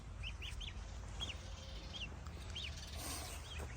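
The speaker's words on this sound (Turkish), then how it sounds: "Bizim yavruyken vermiş olduğumuz yumurtalardan çıkan kazlar büyümüş ve anne olmuşlar." Short rising honks and chirps from several geese sound at intervals over a steady low rumble of outdoor background noise.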